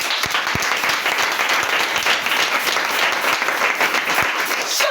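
Church congregation applauding in unison, a dense, steady wash of many hands clapping close by for the full stretch, with no voices standing out.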